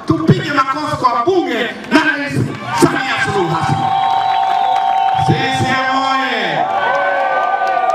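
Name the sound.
crowd applauding and cheering at a rally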